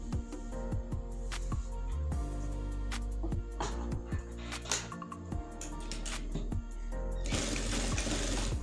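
A sewing machine stitches the sleeve seam of a men's kameez, running in steady bursts of rapid mechanical needle clatter with brief pauses between runs, close and fairly loud throughout.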